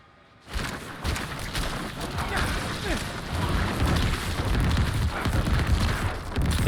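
Corpse Explosion skill cast repeatedly by a Necromancer in Diablo 4, giving dense, continuous blasts and crunching impacts layered into a loud, sustained roar of game combat.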